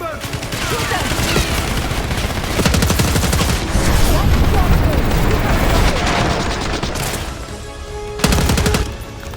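A sustained firefight in Black Ops 6: dense, rapid machine-gun bursts and overlapping shots rattle on loudly for several seconds, with mechanical clatter, a sharp louder blast near the end, and voices mixed in.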